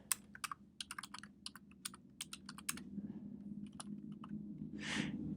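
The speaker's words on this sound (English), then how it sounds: "You'll type in your user ID" Fingers type a user ID and password on a computer keyboard in quick bursts of crisp clicks, close and fairly quiet, then pause before a few final taps over a low background hum.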